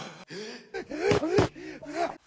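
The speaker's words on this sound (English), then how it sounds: "and some samples of people gasping" Sampled recordings of people gasping: several short, sharp intakes of breath and strained vocal gasps follow one another in quick succession, close and moderately loud.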